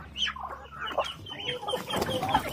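Rhode Island and Brahma hens clucking close by in a farmyard, with overlapping short calls and soft chatter continuing throughout.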